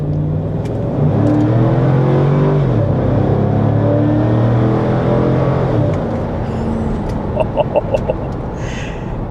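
A Cadillac Escalade V8 accelerates hard on a drive, its engine note climbing through gear changes from inside the cabin, loud and steady, with faint clucking chickens near the end.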